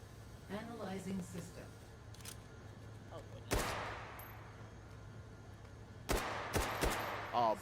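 Video game gunfire in a Goulash tournament match: a sharp burst of shots, then a later cluster of several close, loud shots, over low game background and some voice at the start.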